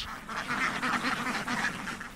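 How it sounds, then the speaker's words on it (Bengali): A dense chorus of farmed ducks quacking continuously across a wetland, many birds close together, with no talking. "বিল জুড়ে শুধুই হাঁস"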